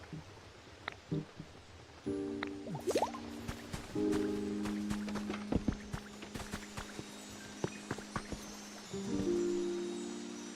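Splashing of a water wheel in the video game Pokémon Pokopia, heard as scattered drips and light liquid plops over sustained in-game musical notes, no voices present.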